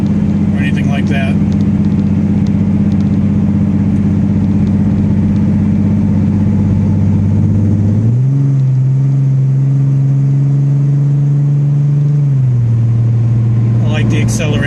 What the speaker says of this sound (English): The acceleration noise is nice and clean.